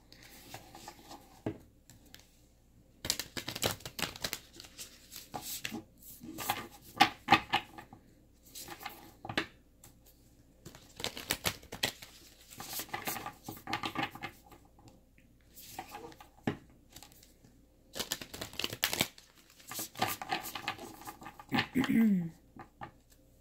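Tarot cards being shuffled by hand, a rapid run of soft papery riffles and taps in bursts across the stretch, close and moderately quiet, with pauses between rounds.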